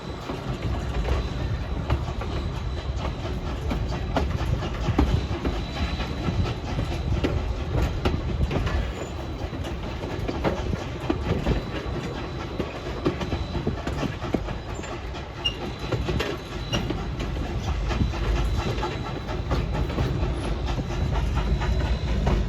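A narrow gauge train rolls steadily around a curve past a rock formation, wheels clattering in a constant, loud rumble that holds for the whole stretch with no voices.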